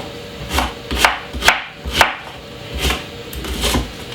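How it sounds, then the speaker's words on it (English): A knife chops white onion on a cutting board, about nine sharp, close thuds in an uneven rhythm with quieter scraping between strikes. "I got white onion, which I'm going to be cutting up very small."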